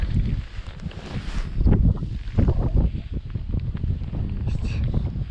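Wind gusts steadily across a frozen lake during winter perch ice fishing in a snowstorm, roaring and buffeting the microphone with loud, broadband rumbling that swells and eases throughout.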